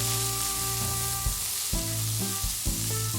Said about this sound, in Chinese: 洋葱丝翻炒至透明， 再下入绿豆芽